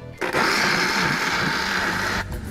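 A kitchen blender whirs loudly and steadily as it crushes corn kernels with coconut milk, a continuous high motor grind lasting a couple of seconds after a brief start-up.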